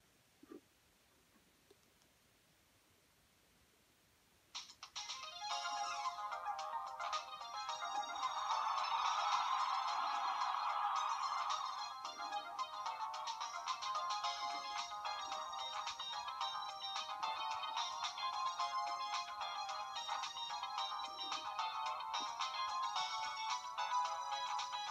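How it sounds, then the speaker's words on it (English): Startup and boot-up tones from a Sanyo RL 4920 2G bar phone: a faint click, then a bright, sustained electronic melody of layered beeping tones that plays steadily alone for about twenty seconds. "the separate optional boot up tones that you could have used with this phone"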